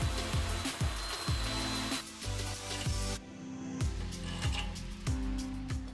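Power drill boring 7/8 inch holes through a steel steering bracket during a tie rod flip, repeated short bursts of motor whine with rhythmic pulses, loud and close, no talking.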